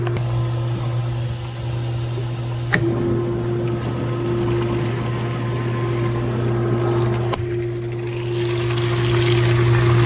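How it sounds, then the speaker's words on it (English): A Crusader big-block marine engine runs with a steady, droning hum while being back-flushed, as pumped water flows through it in reverse. Two faint clicks break the constant, loud tone. "we're back flushing the engine in the opposite direction of the normal flow to help dislodge any debris and contaminants"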